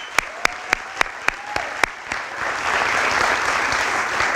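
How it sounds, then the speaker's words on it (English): A few loud, isolated claps ring out first, then an audience breaks into sustained applause for the boys soccer dream team at a fall awards ceremony, the clapping swelling into a steady wash. "How about another big round of applause for the boys soccer dream team?"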